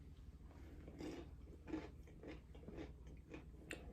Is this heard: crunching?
yes